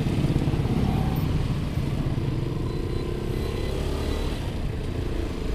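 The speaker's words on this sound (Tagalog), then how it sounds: "Napaka-traffic men." Heavy road traffic with motorcycles and cars near Apalit, Pampanga, a steady dense rumble of engines and tyres that stays loud and continuous throughout.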